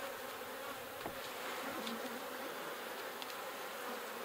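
Honeybees buzz in a horizontal beehive full of bees and nectar, a dense, continuous hum with individual bees whining past up close, and no voices.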